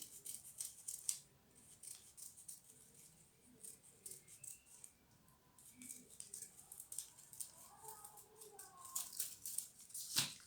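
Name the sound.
scissors cutting circle shapes from paper for a craft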